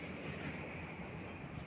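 A train passing a railway station at a distance gives a steady broadband rumble and rush with no distinct clacks. No one speaks.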